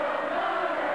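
Home crowd noise fills a college basketball arena during a 1991 ETSU at Charlotte game, a steady, dense roar of many voices building with no break or individual words standing out.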